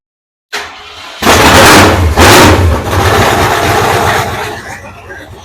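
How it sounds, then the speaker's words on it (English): A 347 engine, freshly back from warranty repairs, cranks briefly and fires on its carburetor, catching into a loud, close roar with a couple of revs before settling into a quieter idle that fades down. "It's pumping gas up to the carburetor, so it might stay running"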